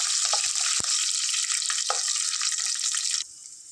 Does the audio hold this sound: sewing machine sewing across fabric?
no